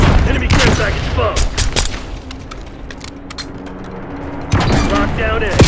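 Frag grenade blast and bursts of gunfire in a military shooter video game, with loud sharp reports at the start and again near the end, a quieter stretch between, and game voice callouts running over the action.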